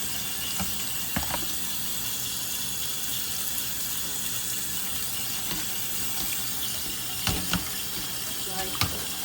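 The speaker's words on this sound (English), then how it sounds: "I'm going to pick up that strainer and kind of just switch those noodles around in some cool water." Tap water runs into a kitchen sink while cooked noodles are rinsed in a strainer with cool water, a steady close hiss with a few brief clanks of the strainer.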